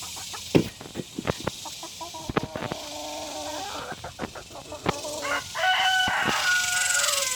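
Backyard chickens crowing and clucking nearby, scattered sharp clucks and knocks followed by a drawn-out crow over a steady outdoor background.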